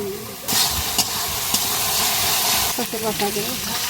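Spices and turmeric frying in oil for chicken ghugni, a steady broadband sizzle with a few sharp ticks and stirring scrapes, while someone talks over it and adds more oil.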